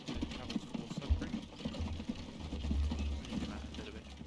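Soft, steady clip-clop of horse hooves in a video game plods along at a walking pace, low and fairly quiet, with faint background ambience.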